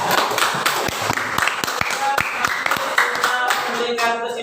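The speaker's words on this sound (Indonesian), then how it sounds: "Ya, beri tepuk tangan buat" A class claps together in a room, a burst of close, crisp hand claps falling into a loose rhythm, then quieting, with a voice audible beneath and after.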